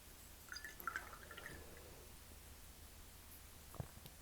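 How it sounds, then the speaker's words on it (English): A watercolor brush is rinsed in a jar of water, making faint, brief swishes and small drips early on, then near silence with a soft splash at the end. "Rinsed my brush off."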